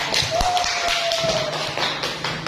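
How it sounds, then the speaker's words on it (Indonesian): Children clap their hands in a classroom, a quick run of close, sharp slaps that overlap, with a brief high tone rising above them. No one speaks. "Tepuk tangan."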